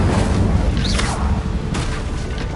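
Incendio fire spell cast in Hogwarts Legacy, a loud rumbling whoosh of flame with a low boom and swirling magical swishes layered over it.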